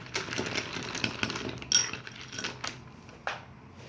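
A spoon scrapes and clinks against a bowl while stirring food, producing a series of close, irregular metallic taps and scrapes.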